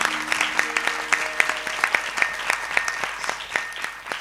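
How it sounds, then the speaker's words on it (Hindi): A group of students claps loudly at a gurukul gathering, with sharp, irregular hand claps in a quick rhythm that stays steady and close. "खूब जोर से तालियां बजा"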